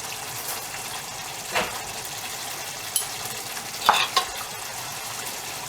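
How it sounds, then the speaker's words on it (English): A spoon stirs curry sauce in a pan over a steady sizzle, with a few soft scraping strokes rising briefly above the frying hiss. "Give that a stir in"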